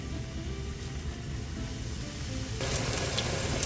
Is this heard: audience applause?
no